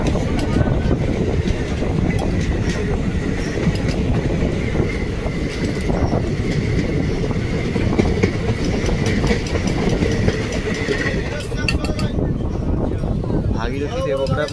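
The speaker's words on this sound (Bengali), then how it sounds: "দেখলাম ঘন কুয়াশার মধ্যে ট্রেন হুইসেল মেরে মেরে ঢুকছে দেবগ্রাম স্টেশন" Lalgola passenger train 53171 from Sealdah rolls into Debagram station through dense fog, a loud steady rumble of wheels and carriages with faint tonal tones riding over the clatter, close by throughout.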